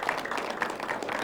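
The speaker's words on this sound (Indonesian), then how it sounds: "Boleh tepuk tangan sekali lagi." A studio audience at a televised dialogue forum claps together, a dense, continuous patter of applause at moderate loudness, heard close and without talk.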